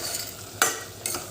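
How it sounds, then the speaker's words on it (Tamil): A spoon stirs spiced chickpea kurma frying in a pan, soft scraping and oily sizzling with two sharper clinks of metal against the pan, close and alone with no voices. "எல்லாம் சேர்த்து நல்லா மிக்ஸ் பண்ணி விட்டுடலாம்."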